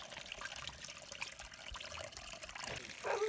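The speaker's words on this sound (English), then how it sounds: "Look at this little piglet in the water," A piglet splashes in the water of a muddy wallow, giving quiet trickling and sloshing sounds with a slightly sharper splash near the end, and no voices.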